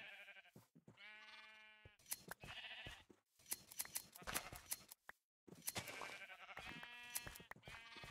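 Minecraft sheep bleat repeatedly while being sheared for wool, a series of quiet, wavering cries spaced a second or so apart.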